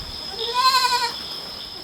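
A single young goat bleats once, a thin quavering cry up close over a steady high-pitched background hum.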